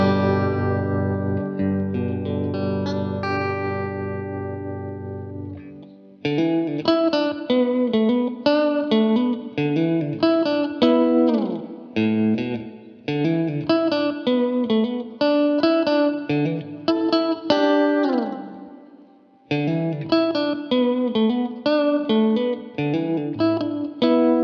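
An electric guitar on a refurbished Partscaster plays a clean tone through the bridge and middle pickups together: a long sustained chord rings out first, then busy picked notes and chords follow. It sounds bright and loud, with no voices over it.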